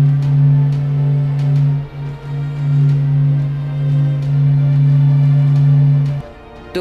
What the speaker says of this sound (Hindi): तो सन की आवाज़ आपने सुन ली होगी कि सन हमारे यानी कि हमारे सूर्य की आवाज़ किस तरीके से